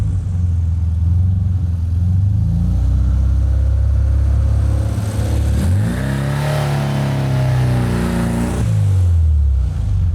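A 1952 MG TD kit car engine revs hard and steadily, rolling in second gear with the clutch slipping while it attempts a burnout; the engine note rises sharply in pitch, then falls back, loud and close with no talking.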